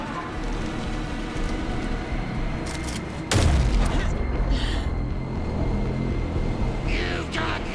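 Gunfire in the video game Alan Wake 2: a loud, sharp burst of shots hits at about three seconds and rolls into a booming tail, over a steady murky game ambience, with no talking.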